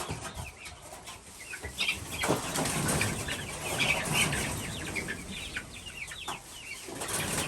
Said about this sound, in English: this is the first time they're meeting these other chickens